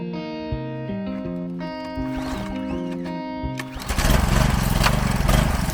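A Craftsman pressure washer's small gas engine is pull-started outdoors on a paver patio. It catches partway through and settles into a loud, steady, rough running drone; music plays before it fires.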